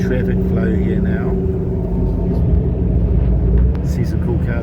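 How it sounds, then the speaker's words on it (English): Dense road traffic in Dubai heard from inside an air-conditioned bus, a steady loud low rumble of engines and tyres with passing vehicles, continuous throughout with no clear voices. "Heavy traffic flow here now."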